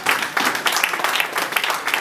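Audience applause at a special pastoral evening for couples, a steady wash of many hands clapping at moderate loudness, with no voices above it.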